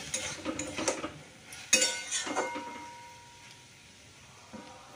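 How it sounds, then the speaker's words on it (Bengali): Okra being turned in a cooking pan: a few close metallic scrapes and clinks of a spoon against the pan in the first seconds, then quieter, fading to near silence. "ভালো করে নেড়ে চেড়ে, খুব বেশি ঘাটা চলবে না, কেননা ঢেঁড়সটা যদি আবার ঘাটা হয়ে যায়"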